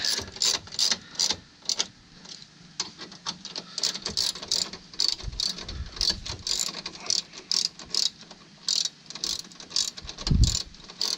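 A hand ratchet tightens bolts during a cooling fan replacement on a Kia Sedona, producing quick bursts of sharp pawl clicks in repeated strokes, close and fairly loud, with short pauses and a few dull knocks between them.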